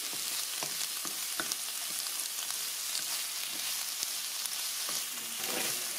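Shallot and bell pepper sizzle steadily in a hot pan, a constant close crackling hiss with small pops and occasional stirring, no talk over it.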